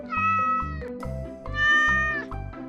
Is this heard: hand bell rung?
no